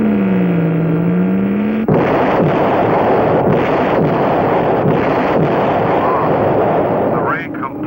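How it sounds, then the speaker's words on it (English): A cartoon light ray weapon fires on an asteroid at the edge of an asteroid belt: a smooth wavering tone gives way to a loud, sustained, roaring blast that pulses in bursts before trailing off. "The ray completely powdered that asteroid."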